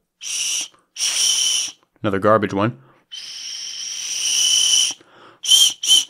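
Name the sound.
toy whistle blowing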